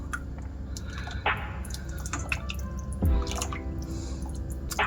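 Broccoli soup being stirred in a pot, with close wet sloshing, drips and a spoon clinking against the pot in a few bursts, with no voices.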